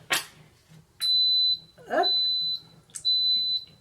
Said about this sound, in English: that beeping sound was just letting us know that it's accepted our command